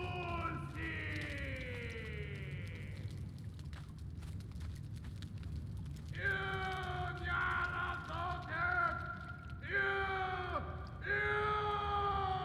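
Screams echo through a dungeon in Conan Exiles, drawn-out wailing cries rising and falling over a low rumbling ambience, with several overlapping shrieks toward the end.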